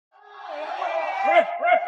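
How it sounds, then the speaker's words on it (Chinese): A boxing match crowd in China cheers for the fighter Yang Zhuo, a sustained roar of voices that swells with two louder shouts near the end. "现场的观众都在为杨卓欢呼呐喊。"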